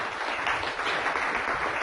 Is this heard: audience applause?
yes